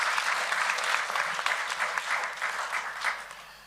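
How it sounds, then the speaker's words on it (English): An audience applauds at the commissioning ceremony for a special medical centre at the University of Zimbabwe; a moderate, steady wash of many hands clapping that swells and dips slightly throughout. "Let's give His Excellency another round of applause."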